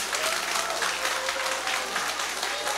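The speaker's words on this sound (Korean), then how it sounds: "박수 한번 쳐주세요" An audience at a political talk in Gimpo breaks into applause, a thick, even wave of many people clapping at moderate volume, sustained throughout with faint scattered voices beneath.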